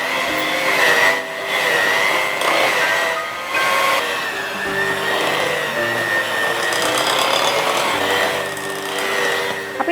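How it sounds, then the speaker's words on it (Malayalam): An electric blender beats cupcake batter at low speed, giving a continuous whirring motor drone whose pitch wavers slightly. It runs loud and close, with short dips as the mixing shifts. "ഇനി നമ്മളൊന്ന് ബീറ്റ് ചെയ്യാൻ പോവാണ്. ഒരു ബ്ലെൻഡർ എടുക്കുക, ഇതെല്ലാം കൂടി ചേർത്ത് ആദ്യം ലോ സ്പീഡ്"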